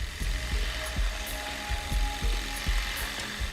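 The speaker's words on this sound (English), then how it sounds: "A drill press cuts holes to anchor the guitar's bridge." Rhythmic, repeated low thumps of a drill press boring bridge holes in skateboard wood for a guitar, with a steady machine whine and brief high squeaks as the bit bites in, close by.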